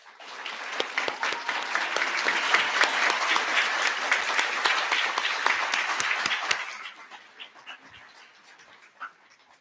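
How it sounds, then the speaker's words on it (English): An audience at a university White Coat Ceremony applauds, steady dense clapping that swells for several seconds and then fades to scattered claps. "Let's give them all a round of applause."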